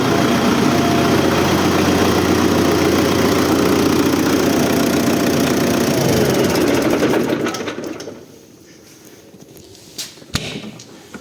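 Tractor engine after a new fuel pump was fitted, idling close and loud with a steady buzzing drone that cuts out around the eighth second, leaving quieter rustling and a couple of knocks.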